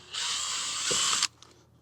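A small bit in a power drill bores a pilot hole into plastic while upgrading the radiator on a 1961 Buick LeSabre, giving a close, loud whirring whine for just over a second before stopping abruptly.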